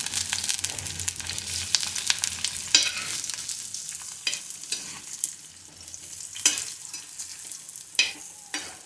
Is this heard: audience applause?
no